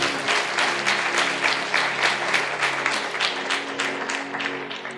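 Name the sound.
audience applause in sermon hall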